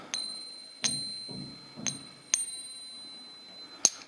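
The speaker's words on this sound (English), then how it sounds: "Silver has a very specific sound." Silver Maria Theresa thaler coin struck five times at uneven intervals, each strike a bright, clear ring with a sustained metallic tone that lingers between hits.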